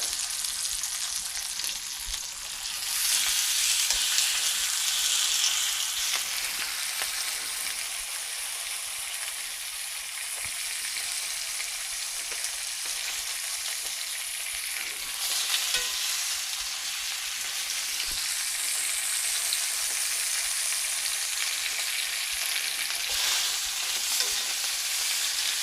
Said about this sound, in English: When you get it on there nice and hot and hear that sizzle,